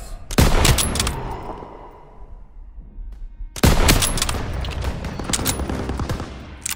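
Video game battle gunfire in a town square assault with half-tracks and turrets: a sharp burst of rapid shots, a quieter lull with distant echoes, then a second sustained volley of heavy fire.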